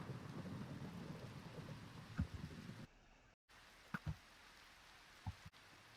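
Steady rain and a thunderstorm in a Minecraft hardcore world, a dense, constant hiss with a few short thunder rumbles and a brief dropout partway through; no one speaks.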